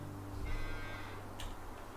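Cows in the farming video game Landwirtschafts-Simulator 19 give a drawn-out low moo, followed by a brief sharp click, faint and steady against a humming background with no talking.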